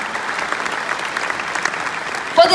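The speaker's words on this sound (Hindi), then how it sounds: "बस जोरदार तालियां हो जाए" Concert audience applauding for a ghazal maestro, a steady close wash of many hands clapping throughout, with a short louder burst at the very end.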